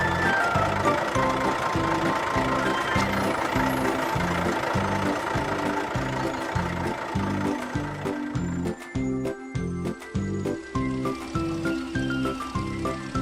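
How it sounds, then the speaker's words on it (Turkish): Cartoon airplane propeller: a loud, steady rhythmic engine thrum with regular pulsing beats running throughout, briefly choppier near the end. "Uçağın pervane sesi bu."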